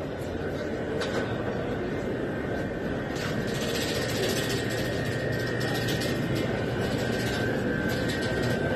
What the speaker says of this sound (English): That rattle noise you hear is the garage door on the other end of the building opening.